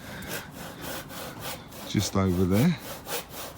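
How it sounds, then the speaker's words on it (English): Hand saw rasping back and forth through wooden garden posts outdoors in a steady stroking rhythm, fairly close, with someone briefly speaking over it. "My brother's sawing away on these posts"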